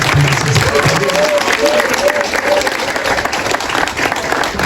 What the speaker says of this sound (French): Je vous invite à applaudir pour Mamiton, applaudissez pour elle.